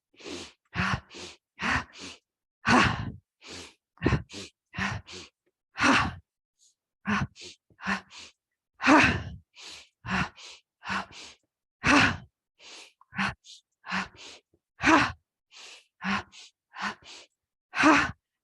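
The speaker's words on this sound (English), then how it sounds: "let's work the body to give us breath of joy" Breath of joy yoga breathing exercise during a gentle yoga practice: a long series of sharp, rhythmic inhales and forceful sighing exhales, repeated steadily and close up, with no talk over them.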